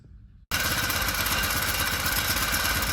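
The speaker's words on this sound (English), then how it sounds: "Hopefully you can hear me over the engine running." A four-stroke engine on a test stand starts after a short quiet moment and runs at a loud, steady, rattling idle with a rapid pulse.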